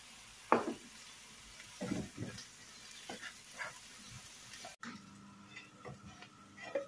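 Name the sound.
onions frying in a pan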